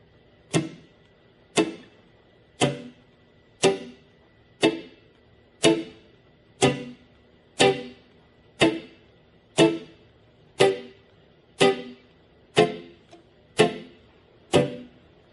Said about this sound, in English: First straight skank.